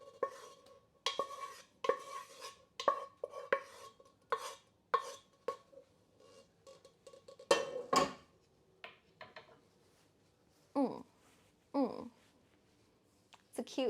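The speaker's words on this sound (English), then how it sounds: "now we transfer to cutting board for chopping" Food is chopped on a cutting board in a GTA roleplay game, a series of sharp, separate knocks with a steady rhythm, close and fairly loud, with quiet talk in the gaps.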